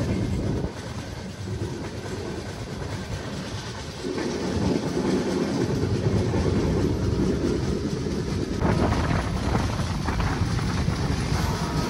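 Kondaveedu Express (train 17212, Yeshwanthpur to Machilipatnam) running at speed toward Gudivada, with a steady loud rumble of wheels and carriages that swells around the midpoint and holds, no voices.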